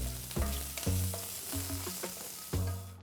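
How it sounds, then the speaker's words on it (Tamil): Cumin, chopped ginger and green chillies sizzling in ghee and oil in a pan, a steady close frying hiss punctuated by several thuds and scrapes of a spoon stirring. "பேனில் 2 டீஸ்பூன் நெய், 1 டீஸ்பூன் எண்ணெயை ஊற்றி இதில் 1 டீஸ்பூன் சீரகம், நறுக்குன இஞ்சி கொஞ்சம், 2 பச்சை மிளகாய் நறுக்குனது போட்டு கிண்டுங்க"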